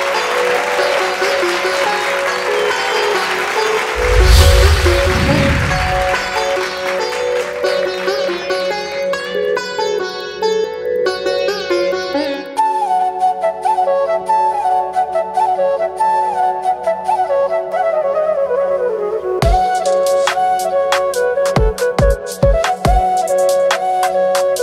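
An audience at an Odia stage singing contest claps loudly to welcome the singer, a sustained round of applause mixed with loud music from the stage.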